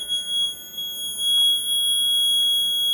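A steady, high-pitched electric buzzer in a battery-powered school model circuit sounds continuously without pause, a piercing tone held at constant loudness throughout.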